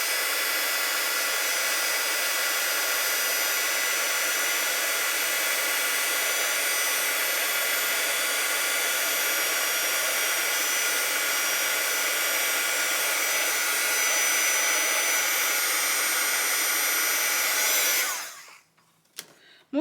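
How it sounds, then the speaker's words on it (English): A heat gun blowing hot air to dry a die-cut holiday craft tag gives a loud, steady roaring whoosh up close for about eighteen seconds, then cuts off, followed by a couple of small clicks. "I just use the heat gun to dry it fast."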